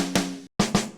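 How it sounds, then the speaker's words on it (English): Two layered snare drum samples hit one after another, each a sharp, punchy crack with a short tonal ring, separated by a brief silent gap. "But instead of using 1 snare, I actually use 2 snares to layer them."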